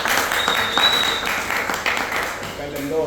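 An audience at a university rap-analysis event applauds the rapper, steady clapping with a voice talking over it.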